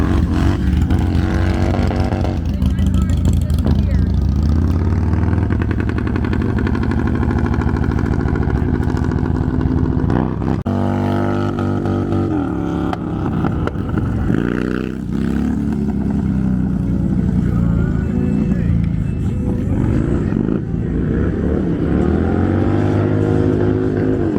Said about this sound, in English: that is a hell of a wheelie